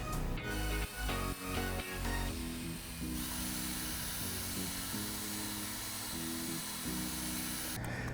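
A power mixer stirs epoxy resin in a container, giving a close, loud, high-pitched whine that lurches and surges at first, then settles into a steady drone before it stops.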